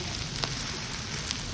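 Sarvapindi, a crisp Telangana flatbread, sizzles in hot oil in a pan, giving a close, steady crackling hiss with a couple of faint pops over a short stretch.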